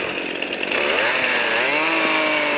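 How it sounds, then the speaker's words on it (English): A chainsaw roars loudly and steadily, its engine pitch rising as it bites into tamarisk wood in Cataract Canyon, with a second saw droning in the background. "with 2 chainsaws going"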